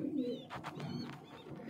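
Breeder pigeons in a loft, including a female imported from England, coo softly and repeatedly at close range with a few faint chirps over a low murmur.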